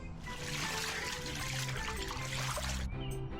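Water pours from a spout into buckets as a steady splashing stream that lasts about three seconds, then cuts off abruptly, with nobody speaking.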